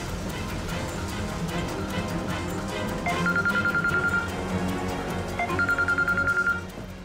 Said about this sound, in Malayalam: ഓമോ, ഫോൺ ഒന്ന് എടുക്ക്.